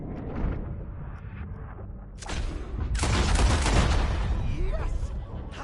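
A burst of gunshots, loud and dense, under a spoken voice, following quieter earlier sounds.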